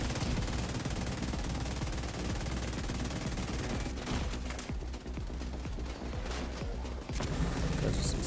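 Dense automatic gunfire and bursts in The Division 2, a continuous loud fusillade of rapid shots from multiple weapons with occasional booms, filling the whole stretch without pause.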